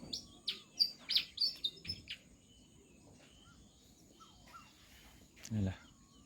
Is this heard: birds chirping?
yes